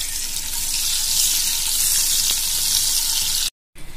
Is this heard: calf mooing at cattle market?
no